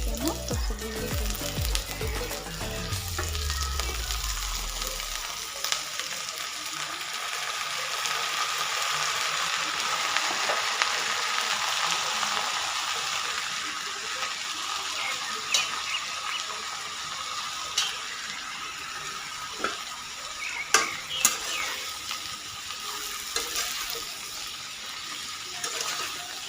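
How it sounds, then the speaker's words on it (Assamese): Washed colocasia (kola kochu) frying in hot oil in a pan, starting with a loud burst of sizzle that settles into a steady, crackling fry with occasional pops and stirring clicks. "এতিয়া মই কচুবোৰ দি দিম"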